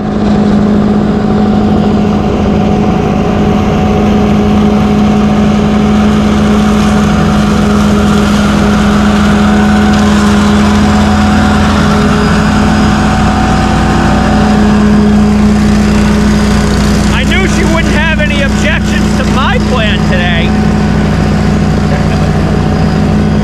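A large-displacement car engine runs steadily and loudly, with a strong low hum that holds throughout and a brief rise in activity near the end.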